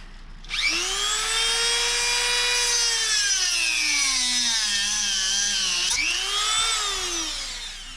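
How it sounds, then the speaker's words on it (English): A Dremel rotary tool cutting into an RC car axle, a loud, close, high-pitched whine that sags in pitch under load, briefly jumps back up near the end, then fades slightly, with no talk. "So just got to get the Dremel tool out, modify this, and install it."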